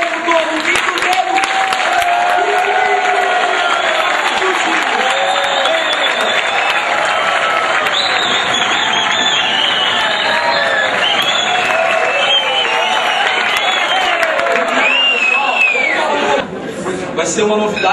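Applause from an audience at a presentation, a long steady wash of clapping mixed with crowd noise, cheering and several voices talking and calling over it.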